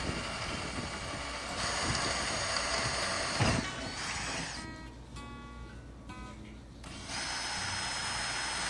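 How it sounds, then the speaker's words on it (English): A power drill with a 1/8 inch bit whirs steadily while boring a screw hole for a kayak handle kit on a Lifetime table, the motor note shifting and dipping as the bit works through. "I'm using a 1/8 inch drill bit here to make the hole for the screws"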